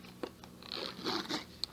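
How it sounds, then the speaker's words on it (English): A zipper opening on a leather-look headphone case, heard as a close, quiet run of scratchy zip clicks and scrapes lasting under two seconds, with a sharper tick near the end. "so zips open"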